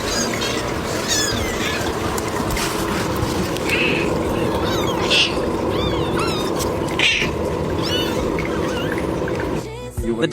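Cats meowing around dinner time at a busy feline cafe, a fancy calico among them, several short meows rising over a steady background hum and noise.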